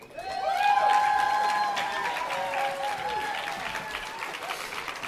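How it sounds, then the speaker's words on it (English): Applause at the Canadian Cinema Editors Awards ceremony in Toronto, with clapping and some cheering that swell early and then hold steady, blended with sustained tonal music and a few faint voices. "A big round of applause for Allison."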